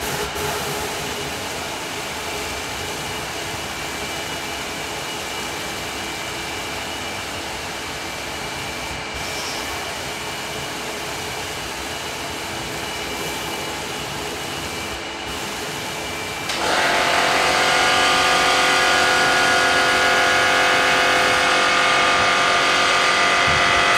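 A Toolpro sand blasting cabinet, fed by a Blackridge 180 litre direct drive compressor and used on 2JZ alloy cam covers, gives a steady, loud hiss that jumps abruptly to a harsher, louder blast partway through.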